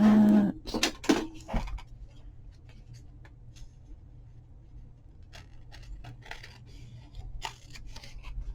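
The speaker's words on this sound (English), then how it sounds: "I probably should use bigger scissors for that." A few sharp scissor snips at the start, crisp and close, followed by quiet with scattered faint clicks and handling noises while papers are worked on at a desk.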